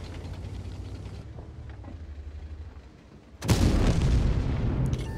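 Tank cannon fire in World of Tanks, a single loud, deep blast partway through that cuts sharply over a low engine rumble and lingers as a booming tail.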